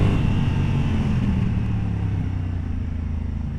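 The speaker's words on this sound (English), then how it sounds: "And I love those auto blips, if you will, when you're shifting down the gears." A 2022 Honda Africa Twin Adventure Sports DCT motorcycle engine rumbles steadily with a low growl as its automatic transmission blips while downshifting through the gears, heard close and loud throughout with no talking.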